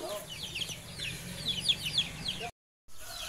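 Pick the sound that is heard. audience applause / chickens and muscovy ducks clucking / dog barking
chickens and muscovy ducks clucking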